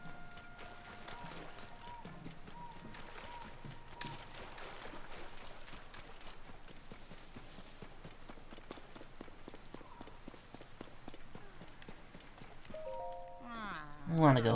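Rain falls steadily in Zelda: Tears of the Kingdom, a constant soft patter with scattered drop ticks and faint footstep-like taps, running the whole time under game music and a speaking voice.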